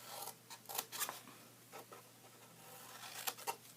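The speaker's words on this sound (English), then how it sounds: "So this first little corner we're going to cut out right here." Scissors snip out the corner of a paper soap box in a few faint, close, crisp cuts with light rustling between them.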